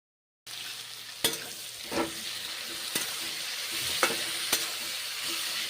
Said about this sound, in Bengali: ভেজে নিচ্ছি নেড়ে চেড়ে